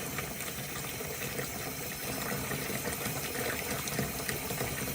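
Water runs steadily from a tap into a soapy sink during an air filter service, a continuous close splashing hiss with no speech.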